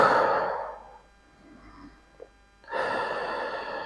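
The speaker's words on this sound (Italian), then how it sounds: "Inspiriamo con il naso ed espiriamo con la bocca." Slow, deep abdominal breaths drawn in through the nose and let out through the mouth during a guided mudra breathing exercise: two long, soft, airy breaths separated by a quiet pause, close and alone.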